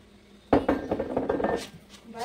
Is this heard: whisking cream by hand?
yes